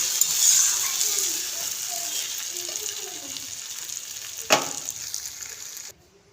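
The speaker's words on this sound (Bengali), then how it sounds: "ভালো করে ভাজা ভাজা করে আমরা কষে নেবো" Cabbage frying in fish oil in a pan hisses with a steady, moderate sizzle, with one sharp clatter partway through, then the sound cuts off abruptly near the end.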